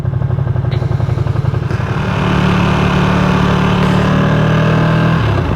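A Ducati Streetfighter V2 engine rumbles steadily while riding slowly, loud and close, with a throbbing low drone that shifts slightly and settles into a smoother hum partway through.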